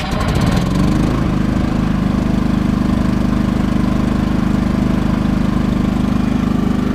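Champion 3100-watt inverter generator starting by remote control and settling into a loud, steady running drone, close by and continuous with no talking.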